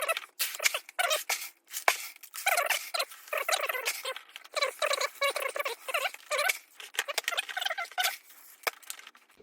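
Tiny micro pellets pour and patter into the plastic hopper of a Future Carping V70 bait boat, a dense, irregular rattling of many small bursts, close and fairly loud, with no talk over it.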